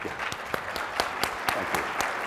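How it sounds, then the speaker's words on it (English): A conference audience claps after a marketing talk at ad:tech, a short, moderately sparse round of applause with individual claps audible in a loose, steady rhythm. "Round of applause."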